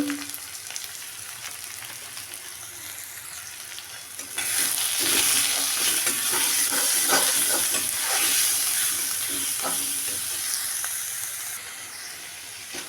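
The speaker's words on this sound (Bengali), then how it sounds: "শুধু পেঁয়াজ, রসুন, আদা আর টমেটো, এটা দিয়ে দেখো ভাজা ভাজা করে নিলাম" Masala of onion, garlic, ginger, tomato and turmeric frying in a pan, a quiet hiss that swells into loud sizzling with stirring scrapes and crackles, then slowly eases.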